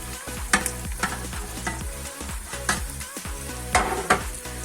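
Spice paste (masala) frying in oil for aloo keema: a close, crackling sizzle under brisk, rhythmic spoon scrapes and occasional clinks against the pot, with no talking.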